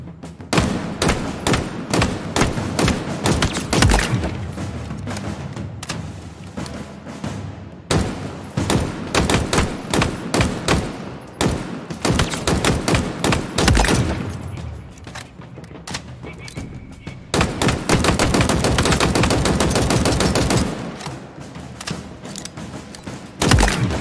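Rapid gunfire at training targets in the shooter game Halo Infinite, with dense, loud bursts of shots repeating over and over, with brief gaps and heavy thumps throughout.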